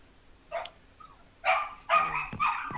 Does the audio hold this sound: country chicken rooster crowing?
no